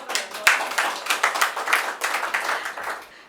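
An audience at a Hindi poetry recital claps in a dense, steady round of applause, many hands close together, fading slightly at the end with no talking.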